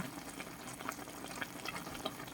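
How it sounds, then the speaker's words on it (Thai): Light soy sauce is poured into a large pot of pork belly and vegetable stew, giving a faint, soft liquid trickle with small splashy bursts, quiet and brief. "ใส่ซีอิ๊วขาวกันจ้ะทุกคน"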